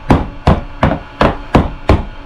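Six sharp, evenly spaced hammer blows strike twist pen parts together in a woodturning workshop, each a loud close knock with a short ring, falling about every third of a second with no talk.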